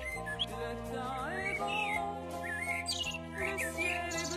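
Birds sing and chirp in a rising, warbling melody with several overlapping tweets, fairly close and moderately loud.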